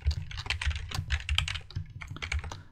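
Rapid, close keyboard typing fills the moment as C# code is entered for a simple dice game, with quick irregular key clicks and no voices.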